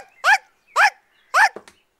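A cartoon dog gives three evenly spaced loud barks close up, then a short softer yelp at the end, with near silence between them.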